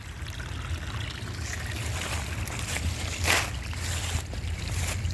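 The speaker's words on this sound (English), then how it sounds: "This is a little drain off." Water trickling through a small drain-off outdoors, a continuous close babbling flow with a brief louder splash near the middle, no speech.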